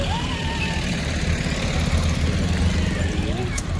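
A vehicle passes close by on a road, its low engine rumble swelling and holding steady for a few seconds alongside faint background sounds.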